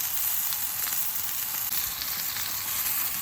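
Oiled beef sears in a smoking-hot pan, a loud, steady sizzle and crackle of frying that continues without pause and without any voices.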